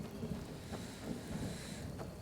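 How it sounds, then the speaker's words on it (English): Rainy storm weather in the game Skyrim, a soft steady wash of rain with faint low rumbles of thunder and gusty wind beneath, quiet and distant, no voices. "Such a peaceful rainy day in Skyrim. Well, it's also storming"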